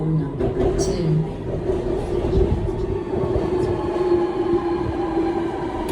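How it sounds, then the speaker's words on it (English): A Sydney Metro train running near Chatswood, a loud continuous rumble of rolling wheels and motors with a steady whining tone, heard close from on board or at the platform. "Before the extension to Sydenham, Chatswood was the terminus of the metro."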